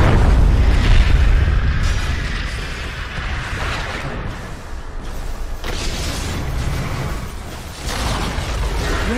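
Dota 2 tower under attack and collapsing, heavy booming impacts and rumbling crashes filling the scene continuously, loud and dense with mechanical clatter throughout.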